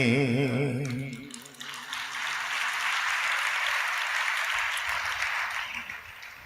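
An audience claps at a church gathering, a steady dense wash of applause following the fading end of a sung phrase.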